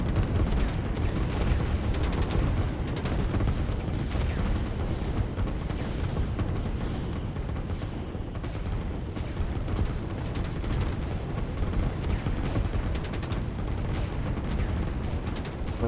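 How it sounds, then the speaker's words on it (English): Artillery fire in the strategy game Line War rumbles as a steady, dense wash of distant booms and crackling impacts, continuous and unbroken throughout. "these artillery are going to hit hard"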